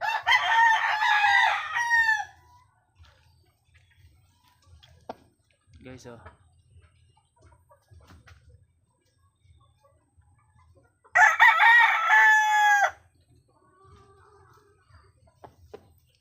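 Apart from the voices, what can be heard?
chicken crowing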